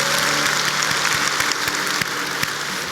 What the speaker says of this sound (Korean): 우리 박수로 하나님께 영광 돌려드립니다.